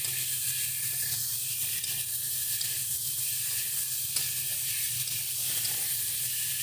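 Chopped tomato hits a hot pan for a Bengali katla fish curry with cauliflower and bori, giving a steady close sizzle and hiss that continues evenly throughout, with faint stirring underneath.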